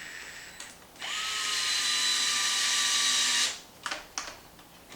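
A power drill tightens shock tower screws on an XMAXX RC truck bumper, giving a sustained high whine that rises in pitch for a couple of seconds, then cuts off. A few short clicks and clatters follow.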